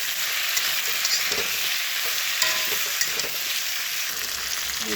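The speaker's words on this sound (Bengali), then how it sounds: "দিয়ে দেবো নুন, ভালো করে নুনটা মিশিয়ে ভেজে নেব একটু।" Pumpkin and Malabar spinach fry with salt in a pan: a steady, close sizzle and hiss fills the whole stretch, with light scraping as the greens are stirred and mixed.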